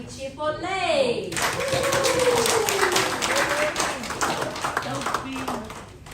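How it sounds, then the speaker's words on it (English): Audience clapping at a graduation ceremony in Samoa, sustained broadband applause under a speaking voice that runs through it, loud and steady for several seconds. "Please give a big cheer for Lay."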